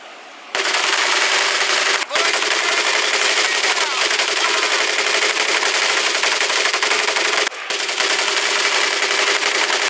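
A mounted machine gun in Medal of Honor Pacific Assault hammers away in long, loud continuous bursts, with two brief pauses in the steady rapid fire.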